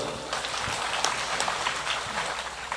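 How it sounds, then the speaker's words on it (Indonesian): An audience at a public gathering claps in a dense, continuous patter of many hands, fairly distant and steady across the whole stretch. "Tepuk tangan sekali lagi buat beliau."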